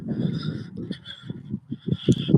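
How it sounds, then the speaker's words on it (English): A duck honks and quacks in a rapid, uneven series of close, loud calls, a clustered burst that breaks off and then resumes more sharply toward the end. "duck."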